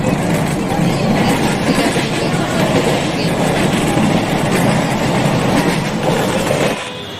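A Mumbai local train runs loud and close, a steady roaring rumble with clattering wheels that drops off sharply near the end.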